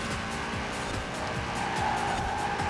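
Audi RS6 understeering in Forza Horizon 4, tires squealing in a steady high screech over the continuous roar of an engine held in eighth gear, loud and sustained throughout.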